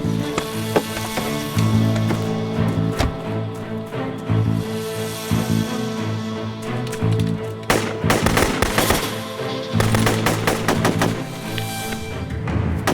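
Gunfire in a staged drama ambush on a road: dense, rapid automatic bursts crackle almost continuously, with especially heavy volleys near the middle and end, loud and close over a low rumbling background.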